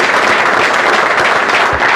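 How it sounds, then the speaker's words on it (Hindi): An indoor audience at a success-story talk claps together, a dense steady wash of applause that stays loud and even for the whole stretch, with no talk over it. "एक बार सर के लिए अगेन फिर से दोबारा ताली बजा दीजिए।"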